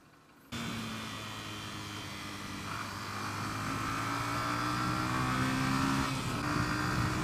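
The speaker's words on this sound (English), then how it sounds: "Was that a CBF rev bomb?" A Honda CBF motorcycle engine starts up suddenly and holds a steady drone that climbs gradually in pitch and loudness as it revs, heard from nearby with no talking.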